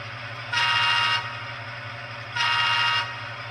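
Horn of a Rapido HO scale GMD-1 model locomotive in Waterloo Central livery sounding its grade crossing signal: two sustained blasts about equal in length, separated by a short gap, over a steady low motor hum.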